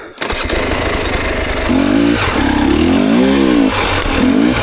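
KTM enduro motorcycle revving on a forest trail, the engine cutting in suddenly and then climbing as the throttle is blipped in rising and falling pitch sweeps, loud and close throughout.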